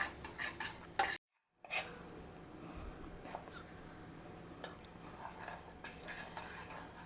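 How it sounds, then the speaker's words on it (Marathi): Gram flour roasting in a pan, stirred with a spoon: quiet intermittent scraping and light clinks against the pan, close but faint, with a brief dropout near the start. "हे डाळीचं पीठ आपण चांगलं भाजून घ्यायचं आहे."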